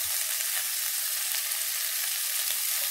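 Sausages and vegetables frying in a wide pan give a dense, constant crackling sizzle, close and even throughout, with a couple of soft low knocks at the start.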